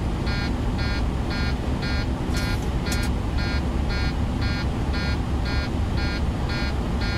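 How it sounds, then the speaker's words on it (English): Cabin altitude warning alarm in a Boeing 737-900ER flight simulator, sounding as a steady, evenly pulsed buzzing horn repeating about twice per second over constant cockpit engine hum. "We've got cabin altitude warning here."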